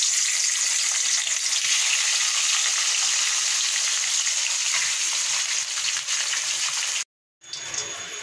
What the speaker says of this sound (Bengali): এখানে কড়াতে তেল দিচ্ছি, তেলটা গরম হয়ে গেছে। এবার মাছটা ছেড়ে দিচ্ছি।